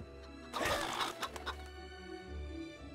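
A chicken in the video game Fable clucks and squawks after being kicked, a sudden loud burst of flapping and clucking that fades into quieter clucks over a steady background hum.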